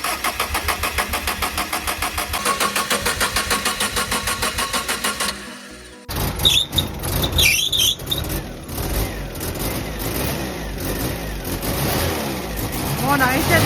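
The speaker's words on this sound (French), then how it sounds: "on a un bruit strident comme si la courroie elle était mal huilée" A camper van engine on a road trip in Spain cranks in a rapid, even rhythm, cuts briefly, then catches and runs rough with a shrill, intermittent belt squeal over the idle, close and fairly loud, with voices present.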